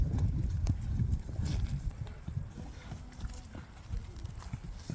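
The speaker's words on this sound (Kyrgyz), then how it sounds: "Азыр талаада жүрөт экен, арык экен ат" A thin horse of Russian–Polish crossbred stock walks across a field, its hooves clip-clopping in a steady, close, fairly loud rhythm over a soft rumbling background.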